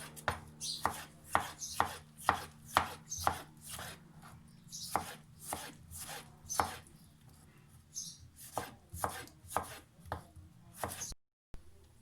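A knife chops through tomato on a cutting board in a steady run of crisp, close thuds, pausing briefly near the end before a few final cuts, with no talking.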